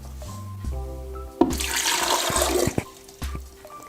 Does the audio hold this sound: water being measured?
yes